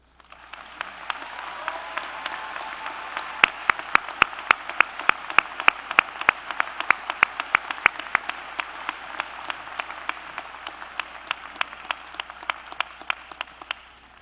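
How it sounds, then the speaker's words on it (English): Sustained audience applause fills a university commencement ceremony honoring faculty, a steady wash of many hands clapping with a few sharper close claps standing out, continuing evenly without speech. "Please join me in a final round of applause for all of our faculty honorees."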